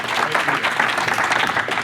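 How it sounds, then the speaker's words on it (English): Keynote audience at a sales conference in Chicago breaks into steady, dense applause, a continuous wash of many hands clapping in a large room. "Let's give it a round of applause for Ed."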